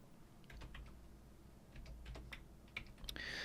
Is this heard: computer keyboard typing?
yes